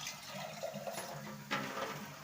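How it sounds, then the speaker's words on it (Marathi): Water is poured into cooked masala in a cooking pan, making a brief, soft splash and hiss that is fairly faint and close, with no talk. "ते आपण आहे ना त्याच्यामध्ये पाणी टाकून घेणार आहे"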